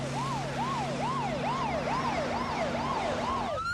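Fire rescue siren from an emergency vehicle, a rapid repeating wail cycling about twice a second over a steady engine drone, loud and close, alone with no voices.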